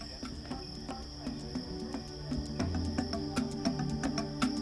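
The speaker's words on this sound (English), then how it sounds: "The forest is rich in insects, like colorful crickets," Crickets chirp steadily in a Cameroon forest, a dense, continuous insect chorus with a bright sustained trill and scattered pulsing calls, moderately loud and close.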